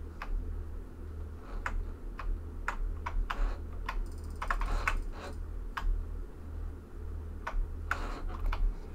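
Computer keyboard keys click in an uneven run of sharp, close taps over a low steady hum as a window-cleaning game is played, with no talking.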